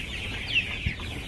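Chickens on a farm give short, soft clucks at a moderate distance over a steady outdoor hum, with no one speaking.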